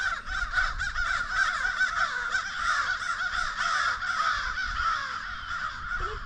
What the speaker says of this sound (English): So now all the crows.